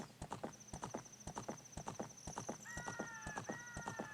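Horse hooves galloping in Ocarina of Time, a fast steady clip-clop rhythm with a high whinny-like tone and sustained chimes over it, fairly quiet.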